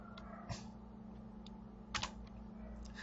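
Quiet computer-keyboard typing while entering JavaScript code: sparse, irregular keystrokes and a couple of louder clustered taps over a steady low electrical hum, with no talking.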